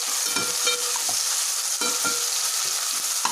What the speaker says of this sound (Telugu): ఇప్పుడు ఇవి కూడా బాగా ఫ్రై అయ్యే విధంగా కలుపుకోవాలి